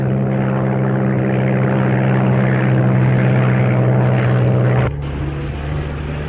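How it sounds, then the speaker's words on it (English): An American propeller airplane drones loudly overhead in a wartime drama, a steady, heavy engine roar that holds for about five seconds before dropping to a lower, duller rumble. "amerikanisches Flugzeug"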